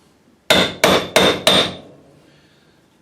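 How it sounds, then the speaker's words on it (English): Four sharp, ringing hammer blows on a car door panel in quick, even succession, loud and close, each leaving a metallic ring that fades out into near silence. "Hammer that down a little."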